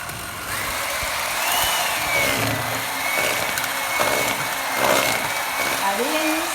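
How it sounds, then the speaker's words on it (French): An electric whisk beats a guava charlotte base in a kitchen, its steady motor whine running throughout with small shifts in pitch as the mixture thickens, while a person talks over it. "là, nous allons fouetter"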